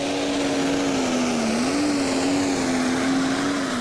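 A pro stock tractor pulling engine roars under full power at a Danish championship pull, a loud continuous drone holding a steady pitch with a slight dip and recovery midway, no talk over it.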